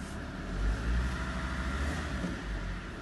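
A SsangYong Rexton with a crank sensor fault is driven on the road, its engine a low, close rumble that swells under throttle then eases back, steady with mild surges and no talking.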